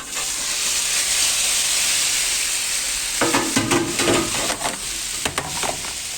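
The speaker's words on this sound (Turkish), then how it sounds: "kendi yağıyla kızartıyorum zaten" Food frying in its own fat in a hot pan gives a steady loud sizzle and hiss, with clattering stirring sounds joining in during the second half.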